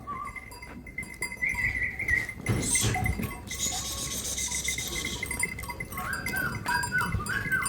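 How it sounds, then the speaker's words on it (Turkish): Goats and sheep bleat intermittently in a farmyard in Akkuyu village, Adana, Turkey, several wavering calls near and farther off over steady outdoor background noise, with a rustling scrape midway. "Evet koyun da var, keçi de var."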